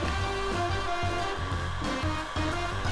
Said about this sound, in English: Now I'm taking the heat gun again to mitigate any of those lines that were showing